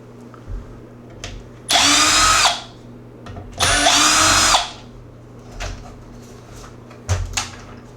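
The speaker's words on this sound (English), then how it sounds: "I'm going to go ahead and take off these two screws for the back" A power drill backs screws out of a Traxxas Slash 4x4 RC truck in two loud, close whirring bursts of about a second each, with soft handling clicks and knocks around them.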